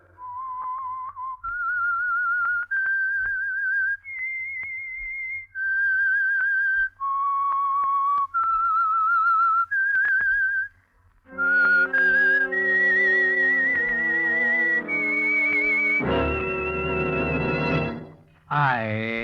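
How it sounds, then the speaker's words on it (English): A whistled theme tune opens The Whistler, the Signal Oil radio drama from 1947: a lone, clear melody of sustained whistled notes, then a full orchestral passage that swells to a loud finish. "That whistle is your signal for the Signal Oil program,"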